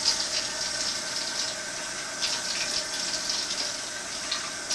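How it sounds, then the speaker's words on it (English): Water pours steadily from a tap or jug into a cooking pot while meatloaf is being prepared, a continuous close splashing stream with no talking. "So then we can put some water."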